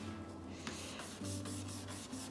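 A brush coats the back of a card with Mod Podge, a close, continuous wet rubbing with repeated short strokes and a faint steady hum behind it.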